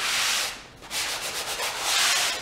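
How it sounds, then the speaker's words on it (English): Light sanding of dry drywall joint compound on a repaired corner: steady rasping strokes, close and fairly loud, with a short pause partway through, no voices. "lightly sand off any rough areas."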